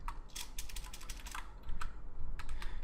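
Rapid keystrokes on a computer keyboard while HTML code is written, a close, steady patter of clicks with brief pauses, the faint low hum of a room beneath.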